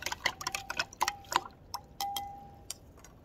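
A spoon stirs salt into water in a glass container, making irregular light clinks against the glass, some ringing briefly, over a quiet background.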